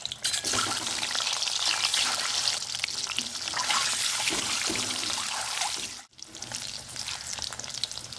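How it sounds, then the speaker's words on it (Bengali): Eggs browning in hot ghee in a pan, a loud continuous sizzle with spatter and stirring, briefly cut off near the end before the frying hiss resumes. "এর মধ্যে ডিমগুলো বাদামি করে ভেজে নিচ্ছি।"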